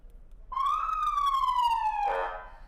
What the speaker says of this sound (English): You've still got your siren